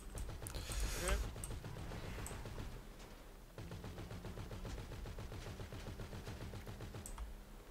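Rapid bursts of gunfire crackle in GTA V Online, dense sharp shots in quick succession with a heavier thump near the start, fairly faint overall and mixed with other game noise.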